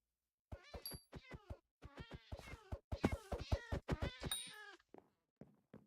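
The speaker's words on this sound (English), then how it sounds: "Tired of hearing the cat's noises, screams of agony" A cat in Hypixel Skyblock meows repeatedly in a quick, rapid series of loud, close game cries, with a few bright chime-like tones mixed in.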